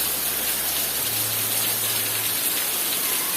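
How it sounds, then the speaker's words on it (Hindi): Heavy rain pours steadily outside, a dense, constant hiss of water striking surfaces, with a low hum briefly audible underneath and no voices. "देख रहे कितना बारिश हो रहा है जोर से"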